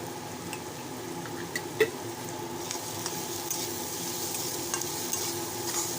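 Okra (bhindi) seasoned with salt is stir-fried in a pan, making a quiet, even sizzle with a few light scrapes and taps of stirring, heard alone without voices.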